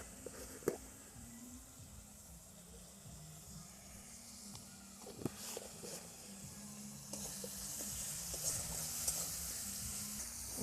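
Spices frying in a pan for a vegetable dal give off a steady, soft sizzle with occasional sharper crackles and clinks. The sound stays fairly faint, grows slightly busier toward the end, and no one speaks.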